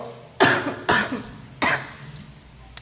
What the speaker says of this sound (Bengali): তো ভীষণ কাশি হচ্ছে